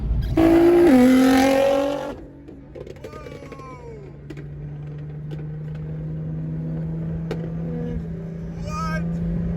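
A car engine revs hard and loud at an underground car meet, roaring up then dropping off, followed by quieter passing engine whines and a steady low drone, with people talking nearby.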